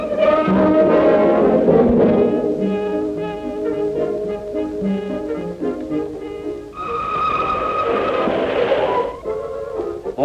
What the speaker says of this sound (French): Voici le train qui s'en va, remorqué par la locomotive à l'étude.